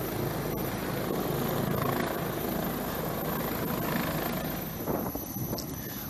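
A helicopter's steady, loud thumping rotor and engine roar, close by and continuous throughout, with wind buffeting the microphone.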